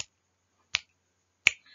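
Three crisp finger snaps ring out one by one at an even spacing of about three-quarters of a second, close and clear against silence.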